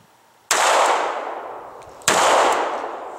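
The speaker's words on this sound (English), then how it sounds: "I'm going to shoot through the jacket" Two loud revolver shots fired through a jacket pocket about one and a half seconds apart, each a sharp, close blast with a long reverberant tail.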